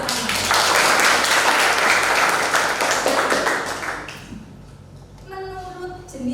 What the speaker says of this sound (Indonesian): ya tepuk tangan untuk Mas Rama.